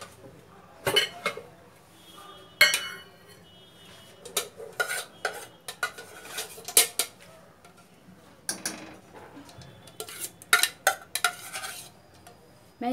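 A utensil stirs melting jaggery and ghee in a pan over low heat, making repeated close scraping and clinking strokes in uneven bursts, with faint sizzling between them.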